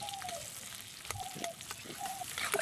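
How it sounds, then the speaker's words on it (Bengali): Chopped onion fries in mustard oil, giving a quiet, close sizzle with scattered crackles and stirring scrapes that grow louder toward the end, with no voices. "এবার ওই তেলের মধ্যে পেঁয়াজ কুচি দিয়ে দিচ্ছি। পেঁয়াজটাকে একটু ভালো করে ভেজে নেব।"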